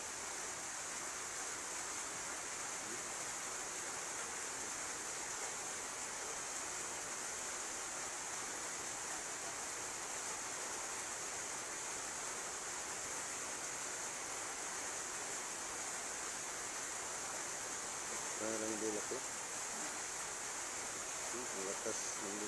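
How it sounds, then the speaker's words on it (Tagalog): A black rock fizzing vigorously in a mix of water and vinegar gives a steady, faint, even hiss that runs unbroken throughout, with a few soft knocks near the end. "lakas ng bumubula sa tubig at saka sa suka"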